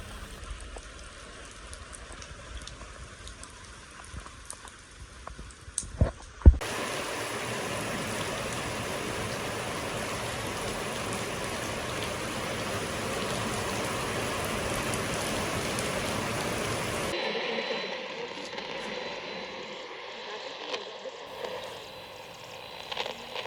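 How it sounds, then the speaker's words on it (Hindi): Dense, steady monsoon rain pours hard in a mountain village for a stretch, a broad hissing wash with some splashing, set between quieter passages with brief bumps. "यहाँ से आप अंदाज़ा कर सकते हैं कि बारिश कितनी शदीद हो रही है।"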